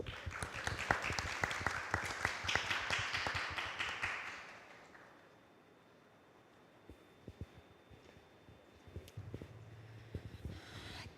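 An audience at a democracy and human rights forum applauds a speaker, dense clapping for about four seconds that fades out, then quiet hum with scattered taps and handling noise.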